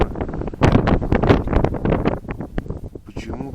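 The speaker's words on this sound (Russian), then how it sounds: "почему сегодня такой ветер сумасшедший" Strong, gusty wind sweeps across a frozen lake during ice fishing in a blizzard, buffeting loudly and continuously close to the microphone while a person talks over it.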